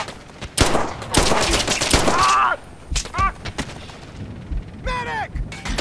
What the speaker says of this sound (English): I got this tiny behind pistol. I mean, it works.